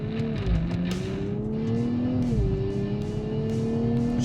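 A Nissan Z Nismo engine drones steadily and loudly, its pitch dipping and climbing as gears are shifted, with a constant rush of road and wind noise around it.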